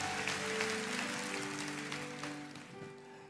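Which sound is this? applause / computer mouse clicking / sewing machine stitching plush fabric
applause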